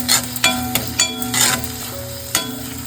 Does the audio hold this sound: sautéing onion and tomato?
yes